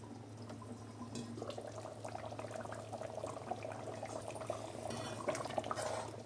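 Fish korma gravy simmers in a pot, a faint, steady bubbling and soft popping over a low background hum.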